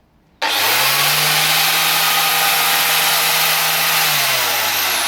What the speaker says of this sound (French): comme le disque est plus épais, il est plus lourd, il a plus de vélocité et du coup la meule aurait tendance à plus s'envoler